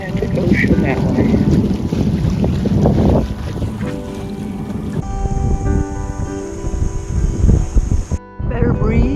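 A 35-foot sailboat under sail in a breeze off Cumberland Island, single-handed, with loud wind buffeting the microphone, water rushing along the hull and occasional rigging or cockpit knocks.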